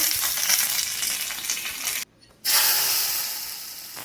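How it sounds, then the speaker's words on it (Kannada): Mustard seeds, black pepper and curry leaves sizzle loudly in hot oil for a tempering for Mangalore cucumber sambar, a steady bright crackle that cuts out for a moment midway, then returns before slowly fading. "ಈಗ ಒಗ್ಗರಣೆ ಹಾಕುವ."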